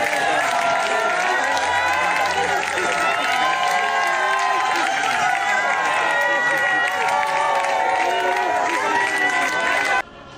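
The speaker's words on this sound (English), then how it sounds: "there was a mammoth crowd to celebrate his life as his remains were moved into the cathedral" A huge crowd gathers at Saints Peter and Paul's Cathedral in Cameroon as a man's remains are moved inside, and it makes a dense, continuous roar of voices, cheering and scattered clapping that carries on steadily throughout.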